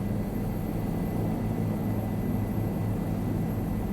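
A helicopter in Microsoft Flight Simulator gives off a steady, even rotor and engine drone with broadband rush, holding at a constant level throughout with no talk.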